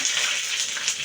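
Mustard seeds sizzle and crackle in hot oil for a tempering, a short burst of bright, fizzing spatter heard close and alone without any talk.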